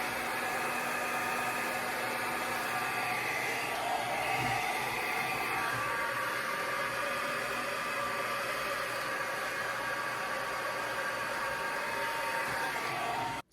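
A handheld blow dryer runs steadily and close for the whole stretch, a continuous broadband whir that ends abruptly at the close, with no talking over it.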